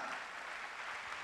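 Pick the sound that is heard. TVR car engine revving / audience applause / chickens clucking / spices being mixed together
audience applause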